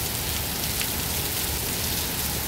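Rain pours steadily on a rainy day in Dhaka's cantonment area, a dense even hiss of drops on surfaces with no pauses and no voices.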